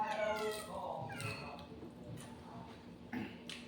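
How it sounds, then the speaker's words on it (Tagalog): A cat in a home where many cats live meows softly several times, with one call near the start, another about a second later and a final one near the end, against a quiet background. "Marami pong pusa dito sa amin"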